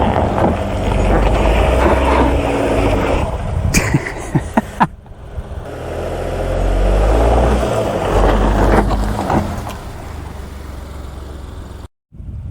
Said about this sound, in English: now turn your wheels and give it more gas this time